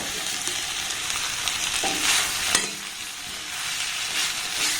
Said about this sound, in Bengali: পটলটা দিয়ে আবার এটাকে আমি খুব ভালোভাবে একটু নাড়াচাড়া করে কষে নেব